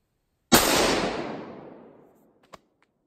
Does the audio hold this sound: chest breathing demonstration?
no